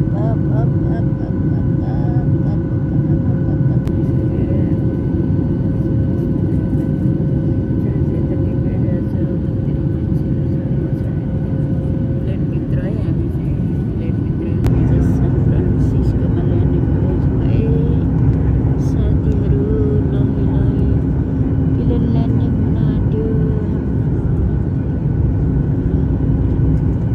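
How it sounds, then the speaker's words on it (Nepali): Airplane climbing after takeoff, a steady loud cabin roar of engines and airflow with a low rumble throughout; a brief shift partway as the engine note changes. "प्लेन फ्लाइ गर्यो है। अब चाहिँ फ्लाइ गर्दैछ हामी।"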